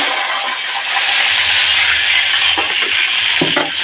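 Chopped tomatoes hit hot oil seasoned with a dried red chilli and whole garam masala for a pointed gourd curry, giving a loud, steady, close sizzle with a few soft stirring scrapes toward the end.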